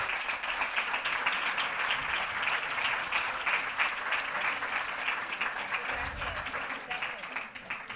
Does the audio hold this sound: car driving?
no